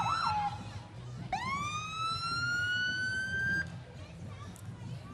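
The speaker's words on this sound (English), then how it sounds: "Here's siren, Suzanne." An emergency vehicle siren wails at a Christmas parade, rising in a long sweeping tone and then cutting off, heard at moderate distance over crowd noise and background chatter.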